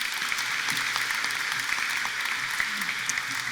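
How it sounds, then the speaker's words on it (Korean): Ceremony audience clapping at a university anniversary celebration and honorary doctorate ceremony in a hall, a sustained even patter of many hands at moderate distance with a faint low hum underneath. "박수 한번 더 주십시오."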